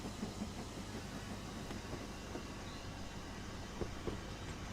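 Continuous low rumble of an advanced steam locomotive, a BLS Black Five, running on the line in Train Simulator 2021, with faint rhythmic clatter, steady and moderately quiet, no talk.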